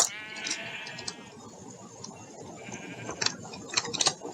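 A sheep in Minecraft bleats clearly a couple of times near the start, followed by softer scattered bleats and light clattering from the game scene.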